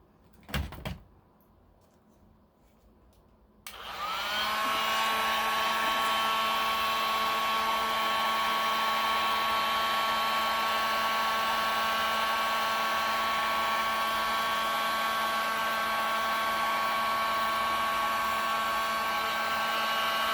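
Heat gun blowing hot air onto Jordan 1 sole shields, switching on after a few quiet seconds with a click and then running as a loud, steady whining roar close by.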